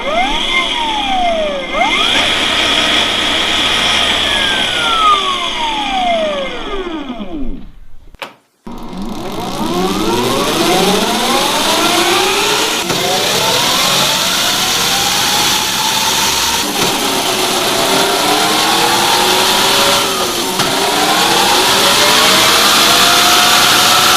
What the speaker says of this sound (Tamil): இந்த பைக் நம்ம ரோட்டில் ஓட்டும் போது என்ன சவுண்ட் வரும்னு இப்போ பார்க்கலாம்.